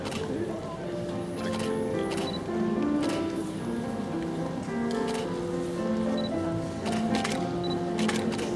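Scattered camera shutter clicks go off as award-winning students pose at a primary school graduation ceremony in Tuen Mun, sharp and brief over a constant murmur of crowd chatter in the hall.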